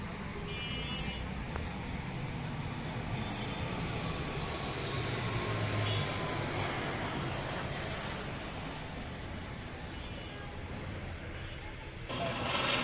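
A US-Bangla Airlines ATR turboprop approaches to land at Dhaka, its steady engine drone filling the air as a loud, continuous roar, with faint voices of onlookers in the background.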